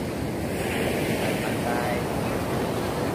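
Sea surf rolls at Pasir Putih beach in Ujung Genteng, Sukabumi, a loud, constant wash of waves heavily mixed with wind buffeting the microphone, with no clear voices.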